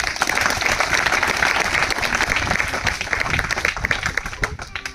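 Applause at a village primary school event honouring two teachers, a dense, loud crowd of clapping that runs steadily throughout with some voices mixed in.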